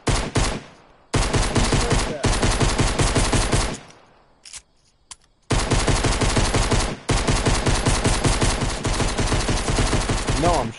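Rapid bursts of video game gunfire, loud and continuous machine-gun style fire broken by a few short pauses, with no voices over it.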